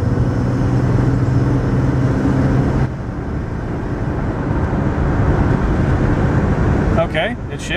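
A 2004 Jaguar S-Type accelerates hard, its engine roaring steadily before dropping in pitch as it shifts up, then pulling on through the gears, with a brief rattle near the end.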